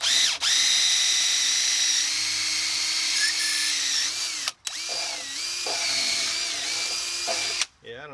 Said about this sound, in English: The drill works a lot better than the impact driver to go through.